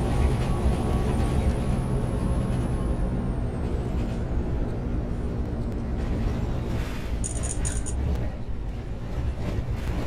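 Bus air brakes in the OMSI 2 bus simulator game, Wuppertal map, with a loud, steady engine and road drone throughout and a brief high hiss near the end.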